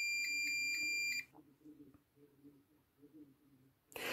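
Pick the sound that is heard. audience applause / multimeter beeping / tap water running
multimeter beeping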